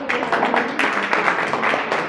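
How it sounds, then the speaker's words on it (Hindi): Ragged audience clapping at a Hindi community gathering, a short burst of many hands applauding together with uneven peaks, fairly steady and moderately loud. "तालियां होनी चाहिए।"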